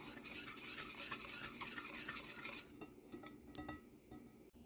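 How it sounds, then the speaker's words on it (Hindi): Sauce, lemon juice and oil are mixed into a steak marinade in a bowl, a fast continuous wet stirring and clinking of utensil against dish that slows and fades before a final tap. "अब मैं इसको अच्छे से मिक्स करती हूँ"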